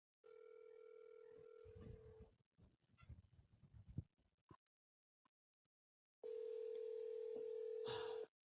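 A phone call goes out: a steady dial tone, a burst of quick dialing and clicks, a short silence, then a long ringback tone, all quiet and close, with no talking.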